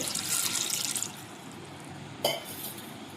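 Water is poured into a pressure cooker holding mango seeds, a rushing splash that fades after about a second, then a single metallic clank and a quiet hiss of settling water, with no voices.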